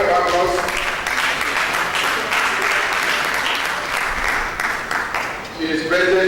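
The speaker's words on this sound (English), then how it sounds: "Can we give a round of applause?" An audience at a thrombosis awareness day conference gives sustained, dense applause that fills the whole stretch, with a voice speaking over it at the start and end.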